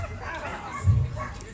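A young police dog, eight months old, gives a short bark or yip during a police dog handler demonstration at a fire brigade event, heard briefly amid nearby talking.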